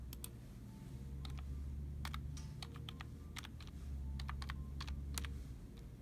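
Sign-in password typed on a computer keyboard, quiet irregular clusters of crisp key clicks in short bursts with pauses, close and alone.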